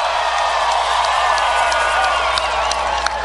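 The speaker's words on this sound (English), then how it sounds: "please give a big round of applause" Audience applause for Senator Bill Nelson and his wife Grace at a Florida political rally, a steady dense wash of crowd clapping with scattered cheers and whoops throughout.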